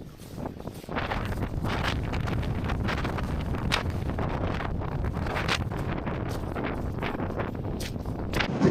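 Strong gale-force wind buffets the microphone on an exposed mountain path, a loud, continuous roar with gusting surges that stays steady throughout with no one speaking.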